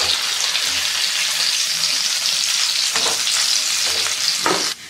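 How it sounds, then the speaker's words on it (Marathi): Rava cheese stuffed pakodas deep-fry in oil over medium heat, a loud, steady, close sizzle with bubbling crackle and a couple of stirring clinks, cutting off abruptly near the end. "आता हे पकोडे आपण मस्त कुरकुरीत होईपर्यंत मीडियम गॅसवरती तळून घेऊयात।"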